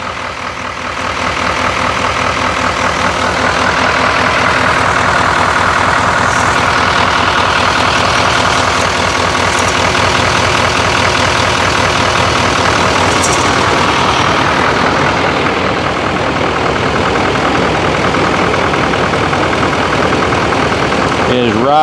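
A 2018 Chevrolet Silverado 2500HD pickup's engine idles close by, a steady, loud low rumble running unbroken throughout, with a voice talking over it.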